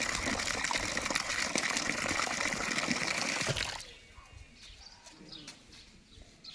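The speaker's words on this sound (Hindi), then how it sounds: "यहाँ पर कितने देर आता है ये वाला बोर में पानी?" Water gushes loudly and steadily from a borewell at a boys' hostel for nearly four seconds, then stops abruptly, leaving quiet surroundings with pigeons cooing in the background.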